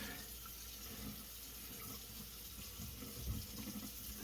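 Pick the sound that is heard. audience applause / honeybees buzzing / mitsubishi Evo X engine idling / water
water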